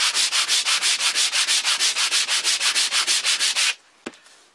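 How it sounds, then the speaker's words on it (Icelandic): Sandpaper rubbed in rapid, even back-and-forth strokes over the covering of a Kwik-fli Mk III model aircraft, about twenty loud close rasps over nearly four seconds before it stops, followed by a single faint tap. "þá renni ég aðeins með sandpapír"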